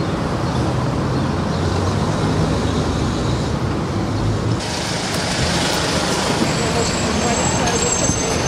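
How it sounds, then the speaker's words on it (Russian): Heavy traffic on a busy city street in Orenburg, with buses, trucks and cars streaming past in a continuous loud roadway roar and occasional air-brake hiss. "Улица нагружена, смотрите, сколько машин проезжает."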